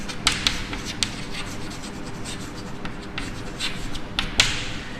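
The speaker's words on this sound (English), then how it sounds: "Let me write." Chalk or marker writing on a board during an electrochemistry lecture: close scratchy strokes with light taps in an uneven rhythm, heard with no talking.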